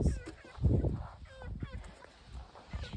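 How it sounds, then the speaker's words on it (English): Chickens at a desert camp give a few short clucks and squawks nearby, mixed with a person talking and light outdoor background noise. "And then here we have the chickens."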